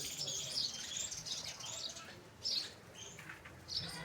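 Sparrows in a village keep up continuous, overlapping chirping with repeated bright bursts. The sound is moderately distant and has no talking over it.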